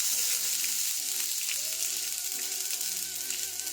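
Onion fries in olive oil in a pan, giving a steady close crackling sizzle, with a faint voice-like tone underneath.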